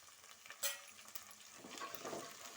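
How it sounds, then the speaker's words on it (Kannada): Beans and peas tossed into a hot pan for rice khara bath begin to fry, a soft sizzle with a sharp spoon clack early on and stirring scrapes, quiet and close with no talking. "ಇವಾಗ ಬೀನ್ಸು, ಹಾಗೇನೇ ಬಟಾಣಿ ಕೂಡ ಸೇರಿಸ್ಕೊಂಬಿಡೋಣ."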